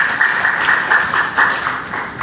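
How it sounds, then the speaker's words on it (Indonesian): Audience at an Indonesian religious talk show claps for itself, a steady, fairly close wash of applause with flickering bursts that holds for about two seconds without anyone speaking. "Tepuk tangan buat diri kita."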